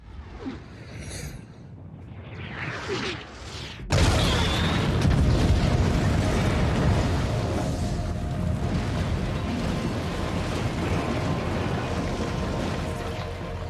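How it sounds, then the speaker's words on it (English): A huge explosion as the Razor Crest ship is destroyed from orbit by an Imperial cruiser in The Mandalorian: a sudden loud boom, then a sustained roaring blast and rumbling debris that stays loud to the end. "the Razor Crest met its end when it was destroyed from orbit using an Imperial cruiser"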